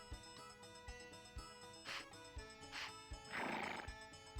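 A horse in the Harvest Moon 64 video game gives a couple of short neighs followed by a longer whinny, heard over looping game music with a steady beat, no talking.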